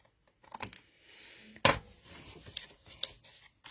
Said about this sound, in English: I like doing these kind of cuts with big scissors so that I can do it with one swoop.